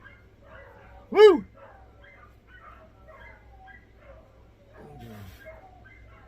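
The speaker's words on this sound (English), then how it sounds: "Dogs are raising heck out there." Dogs bark and yip outdoors, one sharp, loud yelping call followed later by a softer whimpering cry, heard beneath a man's nearby conversation.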